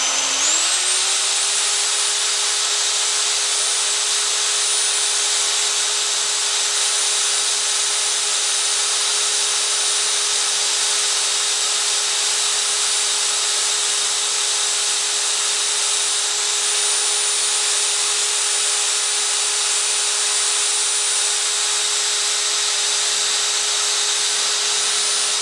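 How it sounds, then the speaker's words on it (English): A large electric mixer churns donuts in water, holding a loud, steady, high-pitched motor whine that stays constant and uninterrupted throughout. "it works better if you put a little bit of water and use the bigger mixer"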